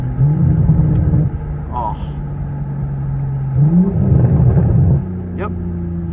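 A Toyota A90 Supra with a newly installed intake downshifts and revs up loudly and close by, the engine note climbing in several bursts and settling between them, with a brief exclamation over it.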